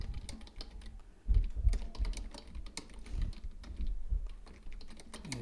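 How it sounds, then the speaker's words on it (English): Rapid, irregular typing on a computer keyboard, with bursts of close clattering keystrokes and brief pauses, a message being typed into Discord. "I'll type this here in Discord too."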